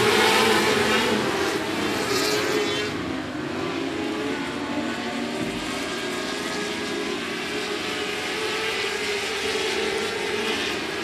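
Race cars roar around a quarter-mile oval at 105 Speedway, a loud continuous engine drone with a shifting pitch as the field circles, steady throughout with no talk.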